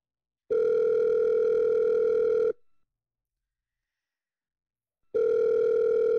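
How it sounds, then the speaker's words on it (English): Ringback tone of an outgoing telephone call: two long, steady electronic tones separated by a quiet pause, clear and close, with no voices. "Phone rings a few times, then picks up."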